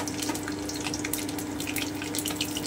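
Nigella seeds and green chili dropped into hot oil sizzle steadily, a dense close crackling hiss that runs without pause for a vegetable chorchori.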